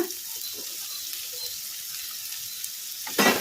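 Half-boiled cauliflower frying in a tempering over a medium flame, a steady soft sizzle with light scraping and stirring, then a louder burst of hissing near the end.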